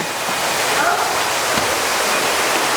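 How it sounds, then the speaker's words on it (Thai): A waterfall at Ban Sing Tham, Chiang Kham, Thailand, gives a loud, steady, close rush of broadband water noise that holds without a break throughout. "แล้วก็นี่มีน้ำตกด้านบนด้วย"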